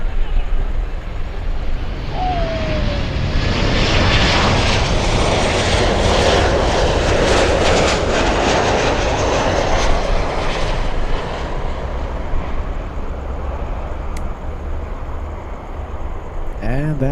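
An airliner arriving from Las Vegas at Miami International Airport makes a loud, continuous jet engine roar that holds steady for several seconds and then slowly eases off.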